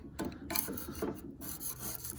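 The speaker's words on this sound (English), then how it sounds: "no matter where I scrape, there's good paint underneath of it" A scraper rasps grime and old paint off an IH Cub Cadet tractor being torn down, short close scratchy strokes in quick succession.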